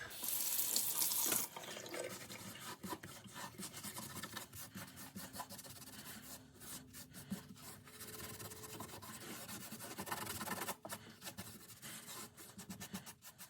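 Tap water running steadily into a kitchen sink with a newly replaced drain flange, a continuous hissing splash with brief louder bursts, close and without talk.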